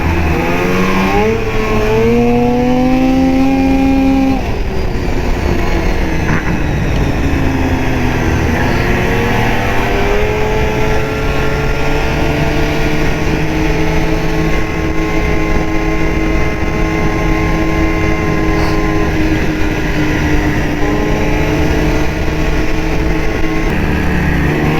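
An Arctic Cat snowmobile engine, one with catalyst problems, winds down steadily as the throttle is backed off, its droning pitch falling and settling over a long, continuous stretch outdoors. Wind rushes across the microphone throughout.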